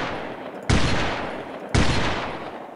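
Two heavy gunshots in the video game Delta Force Land Warrior, fired at long range about a second apart, each a loud sharp crack trailing into a long echoing decay, no talking.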